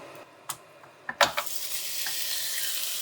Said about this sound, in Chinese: 下面我把这个肉呢先放在锅里呢煸炒